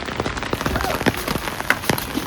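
Heavy rain falls on a rooftop in a steady, dense patter, with close, sharp drops splashing in irregular bursts over the constant hiss.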